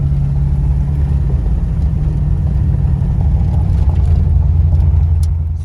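A late model street car with an LS engine cruises along, its steady, loud low rumble droning evenly throughout, with a slight rise in intensity toward the end.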